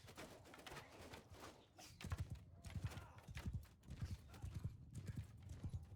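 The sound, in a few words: horse archers' hooves in video game Bannerlord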